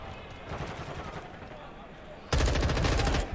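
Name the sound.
gunfire from video game Call of Duty Modern Warfare 2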